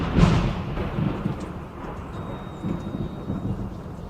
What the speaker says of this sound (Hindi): बिजली के गरजने की आवाज के साथ ही